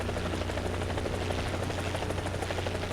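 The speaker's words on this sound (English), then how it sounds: "The rotor on top of the helicopter rotates, generating a disc." Helicopter rotor in the DCS flight simulator, a dense, continuous whirring drone with steady blade thump, loud and unbroken throughout with no voices over it.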